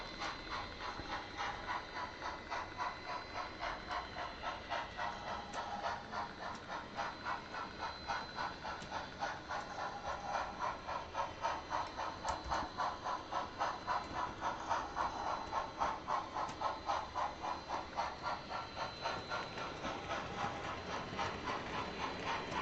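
A model train runs steadily along its track with a continuous rapid clicking and rolling rhythm that holds at an even, moderate level throughout and has no talk over it.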